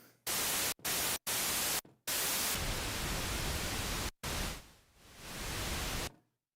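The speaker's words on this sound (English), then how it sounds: "we have either white noise or pink. That's the pink noise. That's the white noise." Loud broadband hiss from a Behringer Odyssey synthesizer noise generator, switched on and off in several bursts, shifting between bright white noise and softer, darker pink noise, with a quiet gap near the end.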